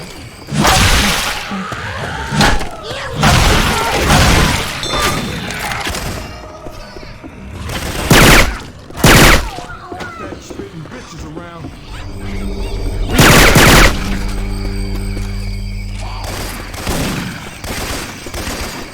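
Rifle fire in Left 4 Dead 2 using Syphon Filter weapon sounds, loud close bursts of shots in several clusters amid game noise and players talking over the action.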